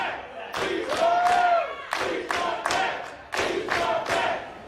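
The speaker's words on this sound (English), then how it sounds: "This Worcester crowd showing their appreciation." A Worcester wrestling crowd cheers and shouts in appreciation after a match, a loud, dense roar of voices with rising chants and bursts of yelling that swell and fall in waves.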